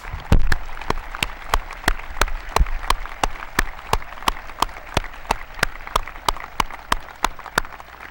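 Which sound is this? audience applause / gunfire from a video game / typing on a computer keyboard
audience applause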